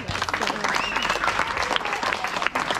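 Clapping from a small crowd at a community fundraising event, uneven and close, with cheering voices and chatter mixed throughout.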